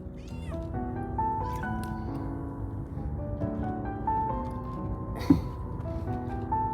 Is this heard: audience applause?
no